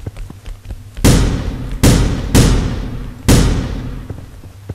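Four sharp pistol shots ring out in The Final Station, each a loud close bang with a decaying tail, fired at uneven intervals a second or so apart.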